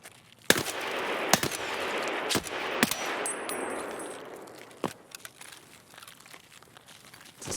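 M4A1 rifle fire in the game Escape From Tarkov: several sharp, loud shots fired in separate bursts over a rough rustling background, fading into quieter scattered clicks and cracks toward the end.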